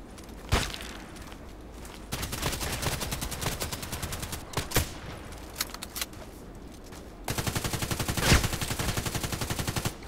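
Video game weapon fire comes in rapid automatic bursts and a few separate loud shots, sharp, close and dense, with a short pause between strings of rounds.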